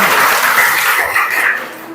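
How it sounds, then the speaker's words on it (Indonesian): A classroom of students applauds briefly, a short burst of dense, close clapping that fades within about two seconds. "Oke, tepuk tangan."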